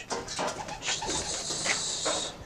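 Pigeons coo close by in a soft, throaty, repeated warble with a few higher chirps, steady for a couple of seconds without any voices.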